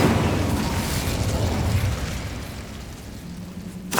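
Incendio fire spell cast in the Hogwarts Legacy video game: a loud, roaring fiery burst that gradually fades and thins out, ending with a sharp crackle.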